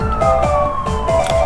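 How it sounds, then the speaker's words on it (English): Police car sirens wailing outside, a loud repeating yelp that sweeps up and down steadily over a rumble of traffic. "Ah, stupid police sirens."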